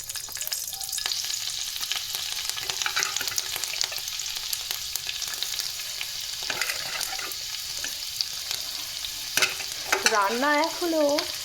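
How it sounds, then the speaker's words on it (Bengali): Dried red chillies crackling and sizzling in hot white oil as a tempering for red amaranth greens, a continuous busy frying hiss with scattered pops and a spluttering burst near the end. "তো এই দিলাম ফোড়নে শুকনো লঙ্কা"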